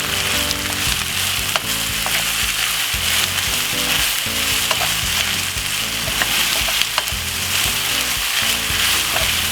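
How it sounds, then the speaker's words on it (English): Corned beef and cabbage are stirred in a hot frying pan, producing a loud constant sizzle layered with repeated scraping and clattering of the spatula against the pan. "Give it a quick stir."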